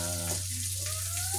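Onions sautéing in a pan for a Filipino dish, a steady close sizzle running throughout alongside a constant low hum and brief tonal sounds.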